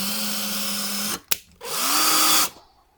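Power drill boring new holes in a wall for storage shelves, two loud close bursts of whining motor with a sharp knock between them, then stopping, no talk.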